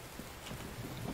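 Steady rain falls inside a house in The Infected video game, a dense continuous hiss with soft low patters underneath, fairly quiet and with no talking.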